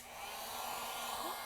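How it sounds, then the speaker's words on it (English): Heat gun or hair dryer blowing hot air to dry acrylic paint on a canvas, a steady close whooshing roar of moving air and motor hum running throughout without talk. "dry your hot air gun or your heat gun or your blow dryer"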